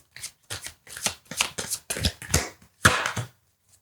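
Tarot cards shuffled by hand in a series of crisp riffling bursts, about nine short ruffles in steady rhythm, close and clear with no voices.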